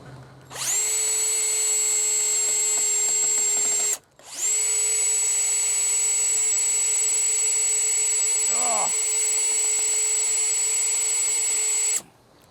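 A power drill whines steadily while driving a screw into a vinyl fence rail, running in two long, loud, close bursts separated by a short pause, with a brief squeak near the end of the second run.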